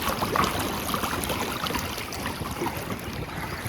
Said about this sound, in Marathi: तुम्ही पाण्याचाच आवाज ऐकू शकता आणि हवेचा आवाज ऐकू शकता इथं